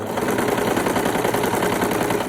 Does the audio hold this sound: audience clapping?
no